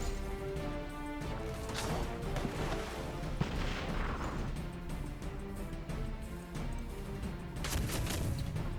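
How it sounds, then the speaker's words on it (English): A dense artillery barrage in the strategy game Battle Nations, with continuous overlapping booms, crashes and impacts layered over game music at moderate loudness and no talking. "it should be easier to mass barrage this area"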